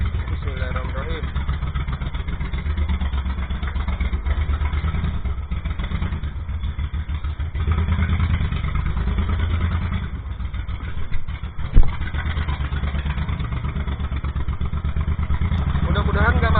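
A Suzuki Intruder VL1500 V-twin motorcycle idles steadily up close, a constant low rumble with a single brief clunk midway, while someone talks over it throughout.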